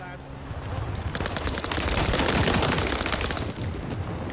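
SMG fire in the video game World War 3 rattles in long, loud, dense bursts, with rapid shots crowding together over a continuous battlefield din.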